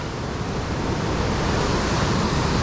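High water rushes through a river gorge at Ohiopyle, a dense, unbroken roar of churning whitewater that stays loud and steady with no voices over it.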